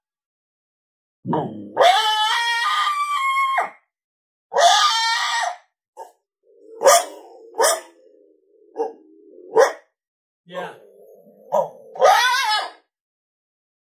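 Coyote challenge call from a Boss Coyote Mayhem Pak electronic caller: a long raspy howl, then a series of short barks, yips and wavering howls in an uneven rhythm, loud and close, with a brief spoken word.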